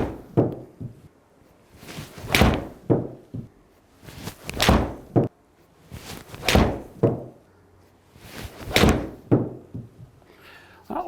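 A golf ball is struck repeatedly with a 7-iron indoors on a TrackMan launch monitor, giving sharp, loud thwacks spaced about two seconds apart, with quiet gaps between shots.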